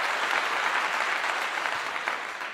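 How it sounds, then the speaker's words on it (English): Steady, dense clapping from a group fills the whole stretch evenly at moderate level, with no voices rising above it. "I give you all a clap again."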